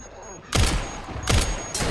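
Two heavy blasts from a grenade in Resident Evil Requiem, each a sudden loud boom decaying into rumble, spaced under a second apart over quiet game ambience.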